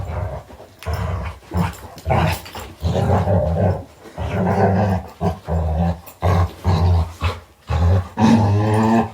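Several dogs growl, snarl and yelp while play-fighting, close and loud, in bursts with short pauses over about nine seconds.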